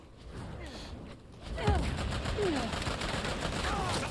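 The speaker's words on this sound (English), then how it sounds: "I got shot from the front and the back" Gunfire in an Uncharted 4 multiplayer match, a dense stretch of shots and bursts that swells louder partway through and stays busy to the end, with game sounds layered over it.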